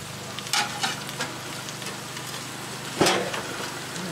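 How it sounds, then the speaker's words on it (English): Peppers frying in oil in a pan with roasted chicken, onions and potatoes nearby, giving a steady low sizzle with a couple of brief clatters or stirs. "Sounds like everything's sizzling away pretty good."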